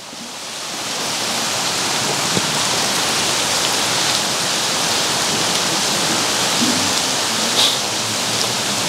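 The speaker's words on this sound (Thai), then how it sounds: "บรรยากาศฝนตก" Rain falls in a steady, even hiss that fills the whole stretch, fading in at the start and then holding at one loud level, with no voices and only an occasional faint knock.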